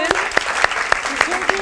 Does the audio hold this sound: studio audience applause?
yes